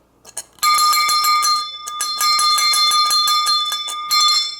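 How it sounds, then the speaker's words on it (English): An antique bell rings repeatedly, loud and close, with bright, sustained metallic tones that strike in quick succession and keep ringing between the strikes. "that is being replaced by this bell,"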